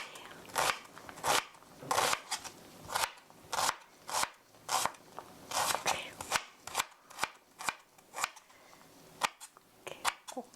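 A knife chops quickly through food on a cutting board, a close, crisp run of repeated sharp taps in an uneven rhythm with no talking.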